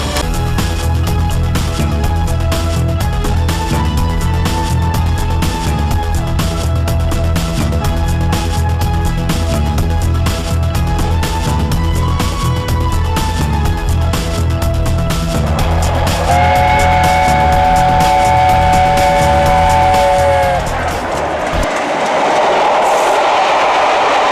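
A train rumbles steadily along the tracks with rhythmic clicking, a brief horn-like tone sounding near the end before the noise shifts.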